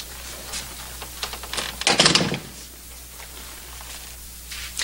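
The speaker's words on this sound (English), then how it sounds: "Close the door." In a Western drama scene, a door is pulled shut with a single loud clattering thud near the middle, surrounded by faint clicks and room noise.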